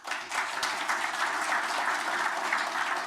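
Applause from an audience at a bill signing event on DuPage County government consolidation in Illinois, a steady, moderately distant clatter of many hands clapping throughout.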